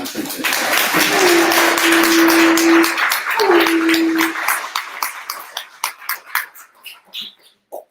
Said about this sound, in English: Go ahead and give me a clap.